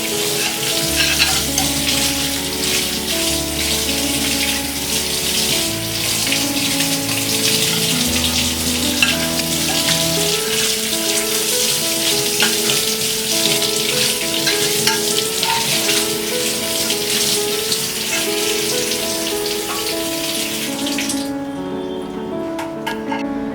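A hard anodized roti tawa is rinsed under a steady stream of running water, a continuous close splashing hiss over quiet background music that cuts off abruptly near the end.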